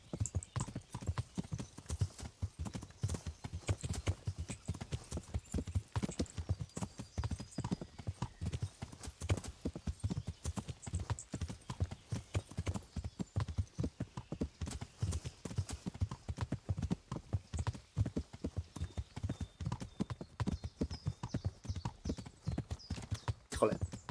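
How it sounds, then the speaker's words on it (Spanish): A horse gallops in Kingdom Come: Deliverance with a fast, continuous clip-clop of hoofbeats that runs steadily throughout. Someone talks intermittently over it. "Caballo veloz."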